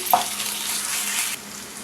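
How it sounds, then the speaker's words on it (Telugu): Onions with a spoonful of ginger garlic paste frying in a pan, a steady bright sizzle with a brief scrape of stirring near the start, then the hiss drops suddenly near the end. "దీనిలో అల్లం వెల్లుల్లి పేస్ట్ ఒక స్పూన్ వేసుకోవాలి ఇది పచ్చివాసన పోయేంత వరకు వేయించుకోవాలి"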